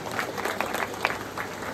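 A crowd claps for Shailesh, who sits on a hunger strike to win justice for farmers against an MIDC project: a short burst of steady group applause, fairly close and moderately loud.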